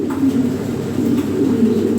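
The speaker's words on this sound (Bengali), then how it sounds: "টপ কোয়ালিটি কবুতর।" Fancy pigeons coo in a steady, low, overlapping murmur close by, several birds sounding at once with no pauses and no talk.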